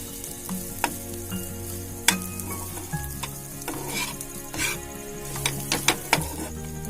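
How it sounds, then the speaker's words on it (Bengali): Mughlai paratha filling fries in a pan together with semolina: a steady, close sizzle runs throughout, broken by the scrape and clink of stirring, with no talking. "সুজির সাথে দেবো বলে আমি এই একসাথেই ভেজে দিচ্ছি"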